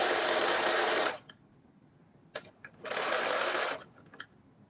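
Two loud close bursts of a sewing machine stitching a 5/8 shirt seam, each about a second of fast whirring, separated by quiet fabric handling and small clicks.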